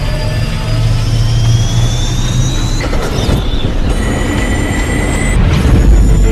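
Loud, steady roar of an aircraft turbine engine in a film scene, with a rising whine and sweeping tones over a heavy low rumble, continuous throughout with brief swells.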